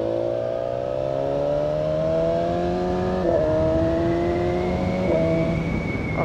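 A BMW S1000XR motorcycle accelerating on Andorra mountain roads, its engine note climbing steadily in pitch with two quick upshifts that briefly drop the tone before it rises again, loud and close throughout.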